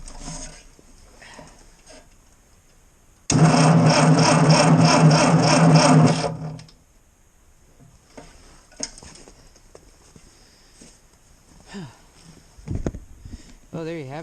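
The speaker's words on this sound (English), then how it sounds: "I'm going to give it another test start and see if it cranks" A tractor's starter cranks for about three seconds, a loud rhythmic churning that stops abruptly, followed by quieter clatter and a few handling noises.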